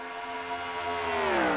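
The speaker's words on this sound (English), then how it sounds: "You can hear the cars idling up front." Race cars idling in a racing simulator during an oval stock car race at Michigan, a steady layered tonal hum that grows slightly louder and rises in pitch toward the end, with no talking.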